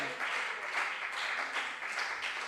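Audience applause for contestants at a junior science and maths quiz regional qualifier in the Ashanti Region, steady and fairly faint, sounding like a distant crowd clapping without pause.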